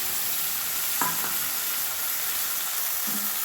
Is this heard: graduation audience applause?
no